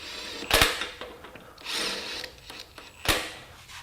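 A Makita XWT14 18V cordless impact wrench snugs lug nuts in a few short bursts, with sharp hammering rattles separated by quieter mechanical handling sounds, close by, with no one talking.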